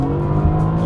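A Mercedes-AMG GT S with a front-mounted 4-litre twin-turbo V8 revs hard, a loud, dense engine roar that holds steady with a brief surge partway through.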